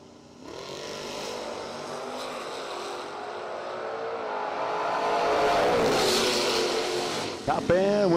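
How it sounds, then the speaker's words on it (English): Drag racing cars at a footbrake bracket race, a Mopar Duster and a Black Oak Firebird, roar loudly in a sustained run that builds in intensity, with an announcer talking over the engines. "Going to chase Kelly Stevens in the Black Oak Firebird."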